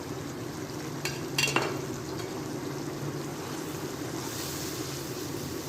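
Chana frying in a pan with red chilli powder, black pepper and turmeric, giving a steady, even sizzle throughout, with a brief clink of a utensil early on and no talk.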